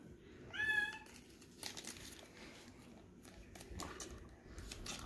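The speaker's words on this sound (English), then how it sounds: "I'm sorry for the kitty cats." A house cat lets out one short, clear meow close by near the start, followed by scattered crinkling and rustling of packaging during an indoor jewelry unboxing, with no talking.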